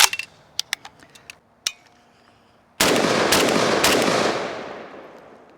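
A 7.62x39 Krink rifle fitted with a muzzle booster, loaded from a waffle magazine, fires a few sharp single shots and then a long loud burst that rings and fades out at the end.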